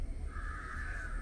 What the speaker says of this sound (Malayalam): ഭയങ്കരമായിട്ടും കാക്ക കാറുന്നു.